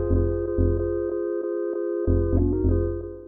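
On an OP-XY synth, a simplified bass line pulses under sustained chords in a short intro section, with thick low bass notes dropping in and out beneath steady bright tones. It plays alone with no voice.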